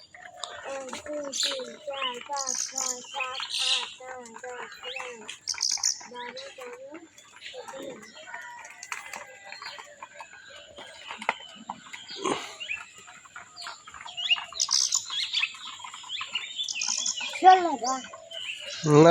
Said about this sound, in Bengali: কবুতর সবগুলো খেয়ে ফেলছে দেখছো না